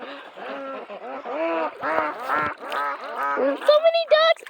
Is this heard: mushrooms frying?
no